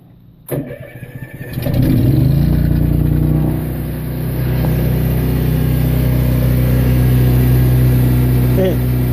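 A Kohler 7.3e marine generator engine cranks briefly after a coupler repair, catches, and settles into a steady, loud idle with a low rumbling drone that holds to the end.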